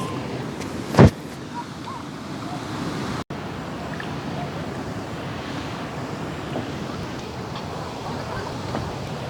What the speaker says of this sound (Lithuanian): Atvykta į Kuldegos krioklį